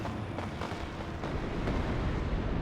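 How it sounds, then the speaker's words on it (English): A command tank blowing up in a Warhammer 30K mod battle, a heavy rumbling explosion with a dense, roaring low tail that holds steady and swells slightly toward the end, amid continuous battlefield noise. "And my command tank just got annihilated."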